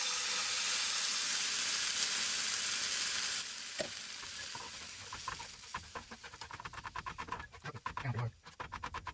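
Canned tomatoes for camp ketchup bubbling and cooking down in a pot, a loud hiss at first that drops to softer popping and spitting with a faint bird cooing in the background.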